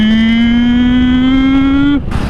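New Royal Enfield Classic 350 motorcycle with a refined engine, a loud steady hum with pitch rising slowly as it revs, cutting off abruptly near the end.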